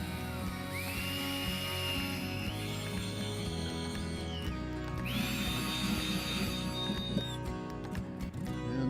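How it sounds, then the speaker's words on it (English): A power drill fitted with a 3/4-inch bit bores a hole to mount a switch, its motor whine spinning up twice in long, steady bursts up close, with scraping and grinding underneath. "We've got that hole drilled"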